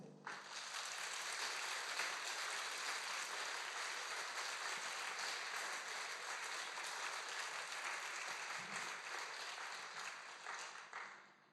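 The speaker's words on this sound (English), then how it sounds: "give yourselves and our friends and supporters a huge round of applause" A long round of audience applause at a Pride talk on LGBT rights, dense steady clapping that swells early and slowly tapers off near the end.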